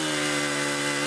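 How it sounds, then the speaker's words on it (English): A chainsaw cuts through storm debris in Monroe County, a short burst of loud, steady buzzing whine with a strong droning tone. "The roar of a chainsaw is a common sound after a storm"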